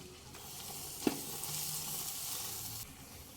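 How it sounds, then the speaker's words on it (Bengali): Kashmiri chilli powder, ground coriander and cumin sizzling and being stirred in a pan for chicken haleem, a soft steady frying hiss with a single spoon knock, close but quiet, no voices. "মিনিট দুই মশলাটা খুব ভালোভাবে কষিয়ে নেব"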